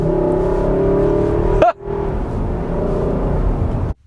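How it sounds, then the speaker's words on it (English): A 2018 Infiniti QX80 with its 400-horsepower 5.6-liter V8 drives along, giving a loud, steady engine hum and road rumble from inside the cabin, broken by a brief sharp transient midway. "it's got a good pep with this 400 horsepower V8 engine"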